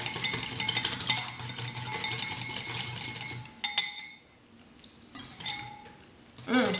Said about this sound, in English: Just whisk it up, get it kind of emulsified.